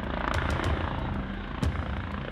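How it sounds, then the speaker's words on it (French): A gendarmerie helicopter flies overhead during an operation near Marseille, its rotor thudding in a loud, continuous rhythmic drone with no talking. "et un hélicoptère."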